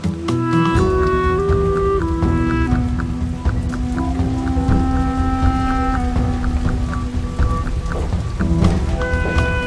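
Steady rain falls outdoors at night, a continuous loud wash of drops with a musical score playing over it throughout.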